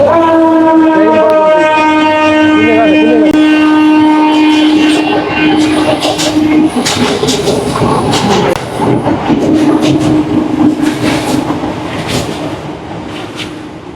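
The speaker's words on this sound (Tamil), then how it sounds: "நான் பேசிட்டு இருக்கும் போது வந்து அந்த ட்ரெயின் வந்து போய்கொண்டிருக்குது" A train passes close by, its horn blaring loudly at the start before the rumbling wagons and rhythmic rail clatter take over and fill the rest, steady and loud.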